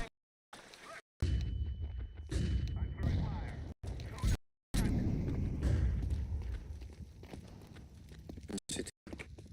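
Bursts of gunfire and heavy blasts, including a thrown flashbang, fill a Battlefield 6 firefight in rough, loud waves broken by brief silent gaps, with players talking over the action.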